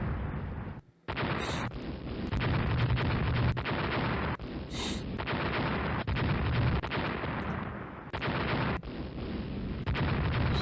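Naval gunfire in the warship battle game Rule the Waves, a continuous rumbling barrage of heavy booms and blasts with a few sharper cracks, loud and dense throughout with almost no pauses.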